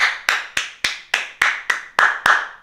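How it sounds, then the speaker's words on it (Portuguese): Hands clap nine times in a steady, moderately fast rhythm, each clap sharp and close, with a short ringing echo after each one in an otherwise quiet room. "Palmas."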